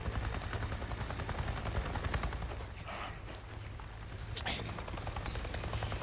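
A helicopter in the Days Gone video game, its continuous, loud rotor thump sustained throughout, with bursts of what sounds like gunfire mixed in.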